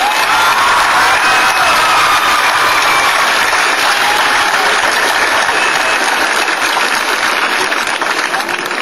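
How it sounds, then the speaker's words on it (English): A graduation audience breaks into loud, sustained applause mixed with cheers and whoops, a dense continuous wash of clapping that fills the whole stretch. "Give them a huge round of applause."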